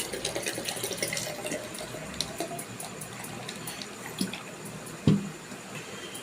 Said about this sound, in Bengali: এটা ধুয়েই আমি ঠান্ডা জল দিয়ে দিলাম